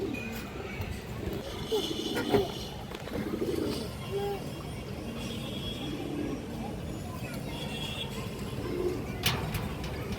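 A red khaki female pigeon coos in soft, low repeated calls amid a busy pigeon-selling spot, with murmuring voices and faint passing traffic around it.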